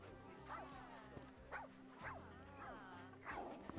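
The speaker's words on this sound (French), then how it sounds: "Oui, le chat aboie. Le chat aboie, c'est la première fois que j'entends un chat aboyer." Sand cat in the Planet Zoo game giving a series of short, sharp barking yips, about five or six evenly spaced calls that rise and fall in pitch, clear and fairly close over faint background ambience.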